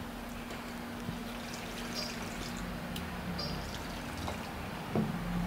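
Tamarind water poured into a pan of brinjal gravy makes a steady, quiet trickle and splash lasting several seconds, with a faint clink near the end and no talking.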